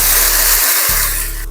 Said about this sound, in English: now it's time to add in our 1 pound of ground turkey